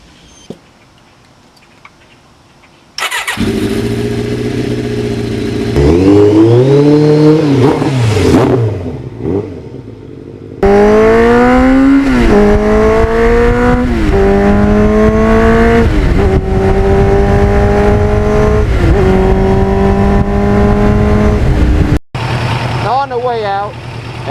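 A 33-year-old Kawasaki Ninja motorcycle starts up loud and close, then accelerates hard through several gears, each rising whine of the engine cut off by a shift before climbing again.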